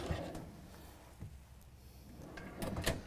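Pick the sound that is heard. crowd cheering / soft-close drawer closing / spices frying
soft-close drawer closing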